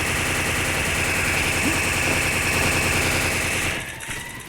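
Rapid MP40 submachine-gun fire in the Free Fire video game rattles continuously and loudly for nearly four seconds, then cuts off to a quieter background.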